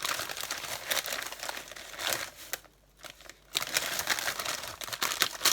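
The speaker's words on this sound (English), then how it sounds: "the first step is to empty 1 packet of biscuits" Packet of biscuits emptied into a plastic bag, close crinkling and rustling of plastic packaging with a short quiet gap midway before the crackling resumes.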